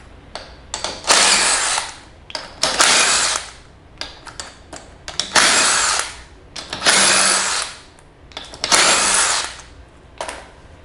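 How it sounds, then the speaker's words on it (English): A power drill with a 1/2 inch socket whirs in about six loud, separate bursts removing powerchair wheel bolts, each spinning up and stopping, with brief quiet pauses between them. "I'm going to use a drill just to save time"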